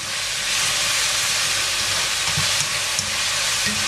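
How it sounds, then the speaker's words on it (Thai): Ground beef, about 750 grams, stir-frying with onion in a pan, giving a steady loud hiss and sizzle throughout with a few brief louder pops and scrapes, no talk. "ผัดไปให้หอมจ้า"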